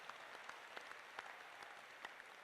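A crowd at a Hanuman Chalisa recitation gathering at Bageshwar Dham claps in thanks, a steady faint patter of many hands with a few sharper claps standing out.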